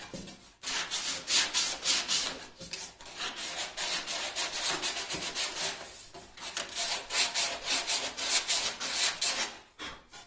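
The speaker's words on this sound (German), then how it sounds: "Dann drehen wir das Ganze und schleifen die Rückseite auf." Rhythmic hand sanding with sandpaper on the wooden edges and back of a snare cajon, close and steady strokes in bursts with short pauses, no talking.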